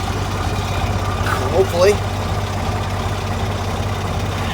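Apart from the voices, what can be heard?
tractor engine running on road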